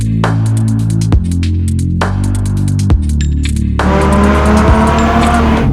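A Novitec-tuned Lamborghini Huracan EVO RWD supercar drives past up close, its engine roaring loud and steady with sharp pitch drops at repeated gear changes and a hint of tire squeal.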